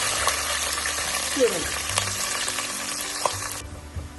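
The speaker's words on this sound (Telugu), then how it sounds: "ఉల్లిపాయలు బ్రౌన్ కలర్ వచ్చే వరకు వేపుకోవాలి" Onions and green chillies frying in a pan for a beans and mutton curry, a steady broadband sizzle with a few stirring scrapes and clinks, close and continuous.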